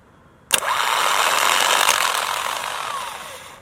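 A Ford diesel starter motor bench-tested off the vehicle clicks in sharply, then spins up with a loud, high-pitched whirring whine that holds steady and slowly fades.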